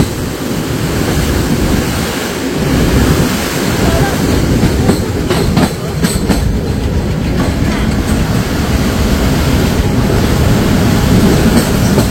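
The Haldibari Tri-Weekly Intercity SF Express runs loud and steady over the Farakka Barrage, with a continuous roar of rolling wheels and wind from aboard the moving train.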